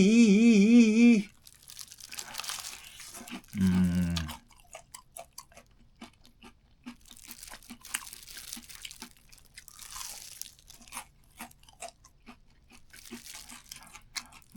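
Loud, crunchy bites and chewing of crispy fried chicken close to the mic, a steady series of sharp crackles spread over the whole stretch with brief hums between, no talking.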